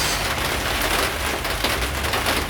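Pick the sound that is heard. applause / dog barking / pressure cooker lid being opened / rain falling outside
rain falling outside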